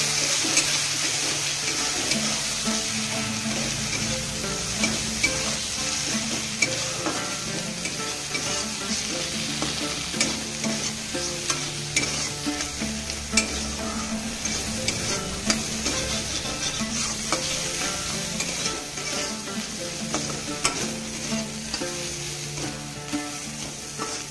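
Masoor dal with turmeric and salt being stirred in a hot pan: a steady close-up sizzle with continuous scraping stir strokes throughout, no voices.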